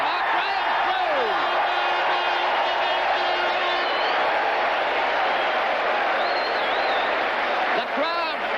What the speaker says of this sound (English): The crowd applauding Mark Graham